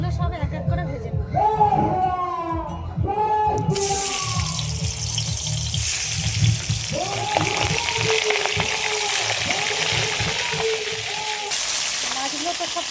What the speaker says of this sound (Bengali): তেল ভালোভাবে গরম হয়ে গেছে, এবার মাছগুলো সব এক এক করে ভেজে নেব।